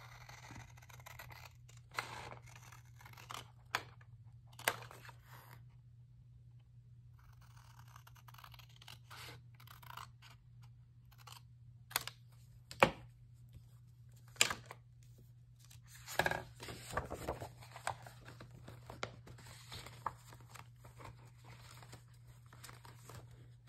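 Paper pages from a kit being cut out with scissors, quiet, scattered snips and crinkles over a steady low hum, with no talk.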